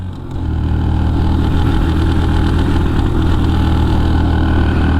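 A Suzuki GAG 50 two-stroke motorcycle engine runs close and loud, with a steady, slightly spluttery drone throughout and no speech over it.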